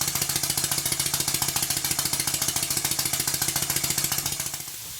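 A Stuart No. 4 model steam engine, not yet worn in, chuffs in a rapid, even rhythm of sharp mechanical beats, close up, then slows and stops near the end.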